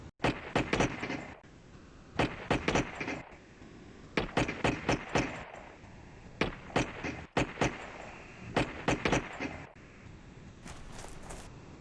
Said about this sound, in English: Let's get some shots off.